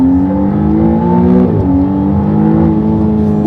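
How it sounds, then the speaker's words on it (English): A McLaren Artura accelerates hard from inside the cabin, its engine tone climbing steadily, dipping briefly at a shift, then rising again, loud and close throughout. "What he was just saying is you can really feel the turbo start spooling."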